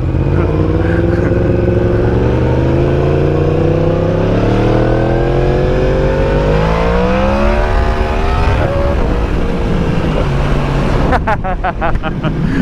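A motorcycle revs hard during a wheelie, its engine pitch rising and falling loudly and close by, then dropping away near the end as a few sharp clicks sound.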